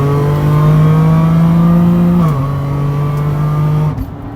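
A supercharged 2015 Toyota Sienna minivan engine drones loudly under acceleration, its pitch climbing steadily until a quick gear shift drops it, then rising again before easing off.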